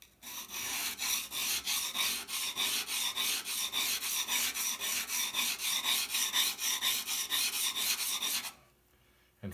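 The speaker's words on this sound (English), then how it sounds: "I'm rolling the steel that way." A steel rod strokes along the edge of a carving tool to roll a wire burr, giving a steady run of rhythmic rasping scrapes, close and fairly loud, about twenty-five strokes before it stops abruptly into near silence.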